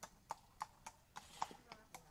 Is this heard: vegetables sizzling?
no